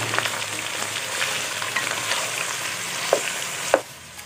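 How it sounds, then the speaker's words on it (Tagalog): Chicken pieces sauté in a pan with a continuous close sizzle, and two sharp utensil knocks land near the end. "ngayon, gigisa muna natin itong chicken ng mabuti"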